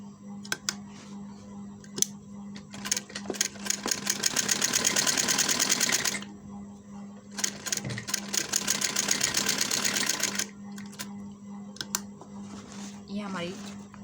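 A sewing machine stitches a shirt collar in two long bursts of rapid, steady needle clatter, separated by short pauses and light handling clicks, close and fairly loud.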